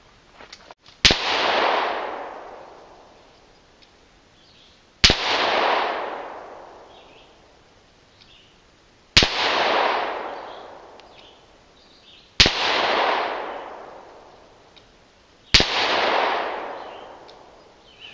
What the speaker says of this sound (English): We've got 5 rounds of supersonic ammo without the suppressor.